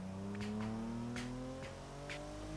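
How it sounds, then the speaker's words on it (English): A car engine runs steadily on a dynamometer, holding a droning note that slowly rises in pitch, with a few brief pops and crackles over it. "I'm running the dyno test right now."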